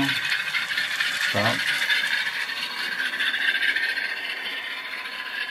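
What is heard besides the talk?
ScaleTrains GE C39-8 model locomotive running in reverse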